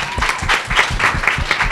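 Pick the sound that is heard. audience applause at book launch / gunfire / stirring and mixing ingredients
audience applause at book launch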